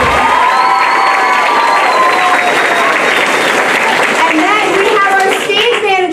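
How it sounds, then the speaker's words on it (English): Sixth grade leaders in a school Lion King production receive loud applause, with cheering and children's shouts mixed into the dense clapping throughout, tapering slightly near the end. "Let's give a round of applause for them."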